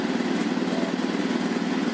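A 1960s Quincy 230-32 air compressor driven by a 3hp Dayton Dyna motor runs steadily, a loud, close, pulsing mechanical drone with a fast regular chug and no voices.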